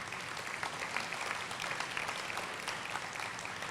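Steady applause from a crowd gathered at an elementary school ribbon cutting ceremony, an even wash of clapping heard at a moderate distance with no talking over it.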